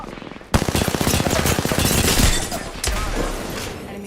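Loud, close automatic weapon fire in a video game battle royale match, a long rattling burst after a sharp start, then a second volley near the end.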